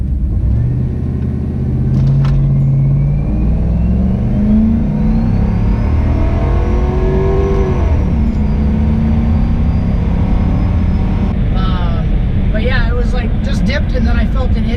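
Turbocharged Cadillac Escalade accelerating hard through the 1-2 gear shift, heard from inside as a loud, steady engine roar with rising whine, under someone talking.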